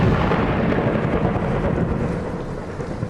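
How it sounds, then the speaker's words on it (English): Loud rumbling thunder in a horror video game, a heavy continuous roll mixed with rain that stays strong throughout and eases only slightly toward the end. "But also has insanely loud thunder sounds"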